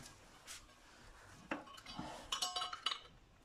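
Metal drywall studs and rails handled during interior wall insulation work, giving a few light clinks and scrapes, quiet and close, with sharper metallic knocks clustered toward the end and no talking.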